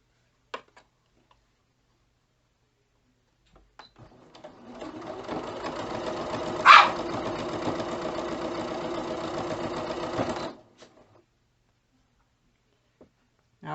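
A Singer Quantum Stylist 9960 sewing machine stitches canvas fabric in one steady, close mechanical run lasting about seven seconds. It starts and stops abruptly, and a brief louder knock comes partway through.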